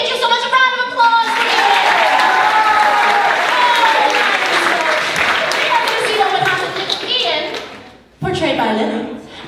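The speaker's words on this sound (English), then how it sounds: "A round of applause for you." Audience applause in a studio show setting, loud and steady for several seconds with voices and children talking over it, fading out before a brief burst of talk and noise at the end.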